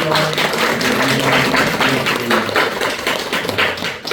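A church congregation at a Sunday morning worship service claps to welcome newcomers, with a brief, dense burst of hand clapping close by and only a little talk.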